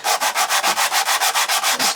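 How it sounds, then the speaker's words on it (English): Sandpaper worked by hand over the top of a vintage 1960s Marples wooden pin marking gauge being restored, a loud close rasp repeating in about a dozen even back-and-forth strokes, with no voices. "I want to just give a quick sanding to the top of this."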